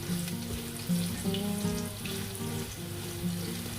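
Onions sizzling in hot oil over a high flame for chana pulao, a steady close crackle with a few stirring scrapes and some clinking throughout, no talking.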